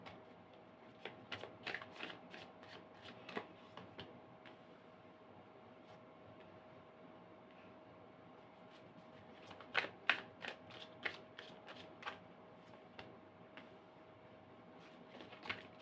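Tarot cards are shuffled in short bursts of crisp riffling and snapping, scattered irregularly between quiet stretches, close and fairly faint.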